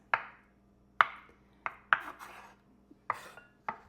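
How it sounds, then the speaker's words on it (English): A knife rough-chops beets into cubes on a cutting board, six or so sharp, well-spaced thuds close by with no talking. "I'm going to chop about 2 beets into dices, to cubes"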